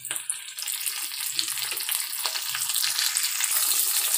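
Tomatoes frying in a pan with cashews for lauki sabji, a steady close sizzle with light crackling that builds slightly louder over a few seconds, no talking.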